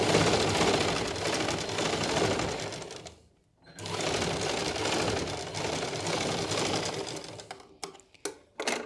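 A sewing machine runs a straight seam through doubled fabric, a steady close rattle that stops briefly, then resumes and ends in a few short stuttering bursts.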